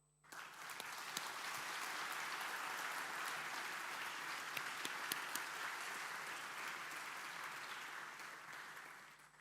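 A large audience claps steadily for graduates at a morning degree convocation on a college campus, a dense, sustained ovation of many hands, loud and even throughout, with no talking over it.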